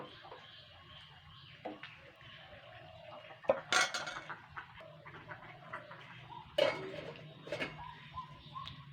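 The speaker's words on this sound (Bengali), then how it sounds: "এটা আমি এখন ঢেকে দেবো" Clattering of a lid placed over a pan of chitoi pitha, several sharp metallic clinks and knocks against quiet kitchen background, close by, with faint voice.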